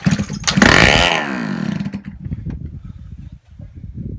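A Suzuki ZZ Inch Up Sport scooter engine, sprayed with starter fluid, cranks and fires with a rising whine, then settles into an uneven, close, sputtering idle.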